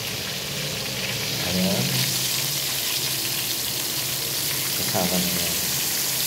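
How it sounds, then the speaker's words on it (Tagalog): Pieces of spicy chicken frying in hot oil at home, a loud continuous sizzle and crackle close up, swelling as more pieces go in, with someone briefly speaking over it. "So, lalagay na natin siya sa mantika."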